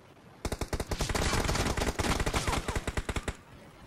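Rapid automatic gunfire in the video game PUBG Mobile, a loud close burst of evenly spaced shots lasting about three seconds.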